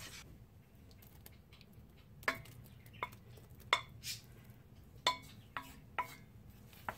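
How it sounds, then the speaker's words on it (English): Macaroni being tossed into a pan of sauce for macaroni and cheese, heard as quiet scattered clinks and scrapes of a utensil against the pan, spaced irregularly over a soft, low background. "next we're going to put the pasta into the pan with the sauce"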